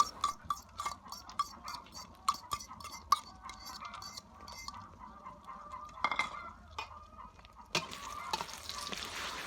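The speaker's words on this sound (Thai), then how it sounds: "ก็นำไข่ที่เราได้ตีไว้นะครับ พร้อมกับหั่นโบโลน่าเป็นชิ้น ๆ ใส่ลงไปในไข่ แล้วก็เอาลงทอดได้เลย" Beaten eggs mixed with sliced bologna fry in a pan for egg fried rice, with a steady close sizzle broken by sharp utensil taps and scraping against the pan and no talking.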